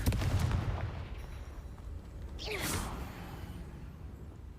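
A Confringo blasting spell goes off in Hogwarts Legacy, a loud burst at the start that decays into rumble, followed by a bright whooshing streak and a second crackling blast midway, with no talking.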